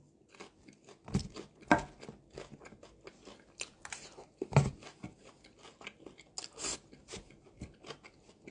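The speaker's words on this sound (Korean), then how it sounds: "말하느라 쩝쩝대는 건 좀 이해 좀 해주세요" Close, wet chewing with crunchy bites and lip smacks, irregular and continuous, louder crunches now and then; no one speaks.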